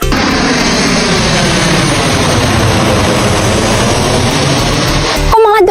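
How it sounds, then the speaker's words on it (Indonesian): A cartoon airplane flies overhead, a loud, sustained roaring drone that holds steady before cutting off abruptly, after which a brief voice is heard. "lihat tuh, di atas ada pesawat."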